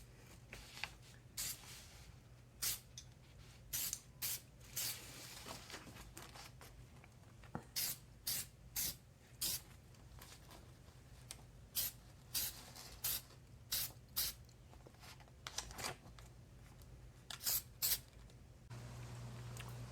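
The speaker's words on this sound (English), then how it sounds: "spray with the headlight coating." Short hissing spray bursts of headlight coating repeat irregularly from an aerosol can onto a car headlight, close by, with quiet gaps between them and a faint hum underneath.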